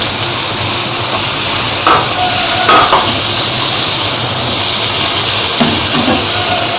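Goat liver frying with ginger and garlic in a pan makes a loud, close, continuous hiss and sizzle, with a few faint utensil scrapes and no voices.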